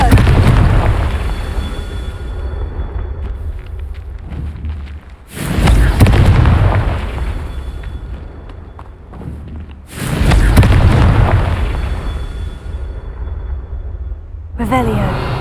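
Repeated Confringo fire spells burst in Hogwarts Legacy, three loud explosive booms a few seconds apart, each fading into a crackling rumble, with some talk mixed in.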